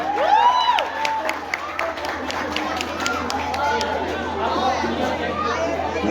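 Crowd applauding at the podium ceremony of the 35th Corrida da Fogueira race, steady sharp clapping that carries on under loud chatter and a voice over a loudspeaker.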